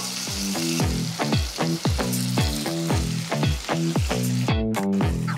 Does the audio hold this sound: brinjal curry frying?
yes